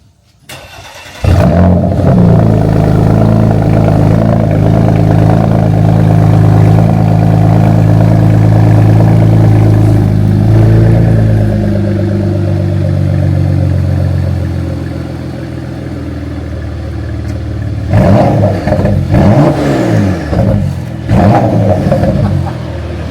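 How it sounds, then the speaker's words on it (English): A Porsche Macan Turbo facelift engine starts and revs hard, a deep steady exhaust roar that drops back to idle, then several sharp throttle blips near the end. "we'll give you guys a quick sound clip of the exhaust"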